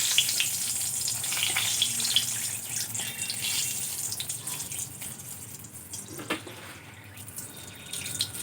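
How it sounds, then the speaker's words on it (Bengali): Three dried red chillies frying in leftover oil from frying pointed gourd, a steady close hiss with a faint tap-like trickle, fading slightly toward the end. "আর আমি এখন এই পটল ভাজার তেলের মধ্যে 3টে শুকনো লঙ্কা"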